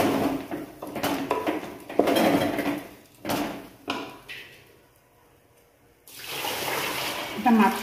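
Water splashes and runs into a rice cooking pot in bursts, with clinks of cookware, a quiet pause midway, then more pouring; speech is faint in places.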